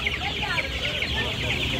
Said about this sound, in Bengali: সোনালী মুরগি আছে